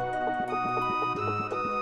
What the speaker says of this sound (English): that's the sound of us pouring the pop on the grave